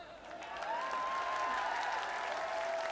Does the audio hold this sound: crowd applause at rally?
yes